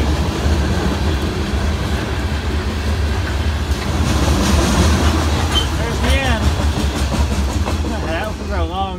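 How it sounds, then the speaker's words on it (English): A long, heavy CSX freight train rolls past close by with a steady rumble and clickety-clack of wagons, a shaking caboose among the cars, while a voice speaks briefly over the noise. "It's a heavy train. The caboose is actually shaking."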